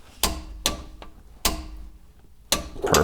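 A torque wrench set to 38 foot-pounds on a 24 mm socket snaps off four sharp, loud clicks at uneven intervals while tightening a fifth-gen Toyota 4Runner rear differential plug.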